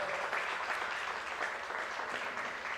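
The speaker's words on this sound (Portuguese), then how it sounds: "Vamos aplaudir ao Senhor." A church congregation applauds with steady, dense clapping that fills the room at an even level, fairly quiet and distant.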